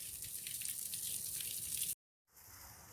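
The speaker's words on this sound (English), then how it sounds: "just the sound and the sight of falling water in these little ravines" Water falling through small ravines on wooded state land near a sandstone arch in Ross County, Ohio, giving a steady broadband rush, close and continuous, cut by a brief silent gap before resuming.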